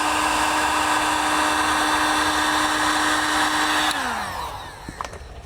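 A heat gun blows hot air over vinyl wrap on a rear door skin of a 2019–2025 Toyota RAV4. Its loud, steady whirring hum runs close and unbroken, then winds down and cuts off, leaving faint handling taps.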